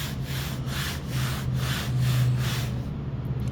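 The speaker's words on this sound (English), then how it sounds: "I want you to listen to how my hand sounds when I rub across it" A hand rubbing across badly oxidized, chalky car paint on an aftermarket hood scoop, making rhythmic dry scraping strokes, about one per half second, close and fairly loud.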